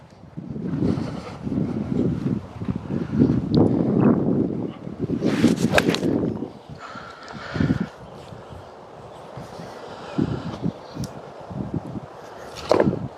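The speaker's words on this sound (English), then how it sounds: "A little bit of right to left wind." Wind gusts across a golf course tee, rumbling and buffeting the microphone in uneven surges, strongest early on, then easing to a softer steady rush.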